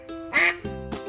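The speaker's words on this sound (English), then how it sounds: "Oh, who makes that silly sound? You're so smart. It's a duck." A duck gives a few nasal, raspy quacks in quick succession, close and clear, with no talking over them.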